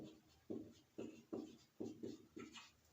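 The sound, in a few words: writing names on a board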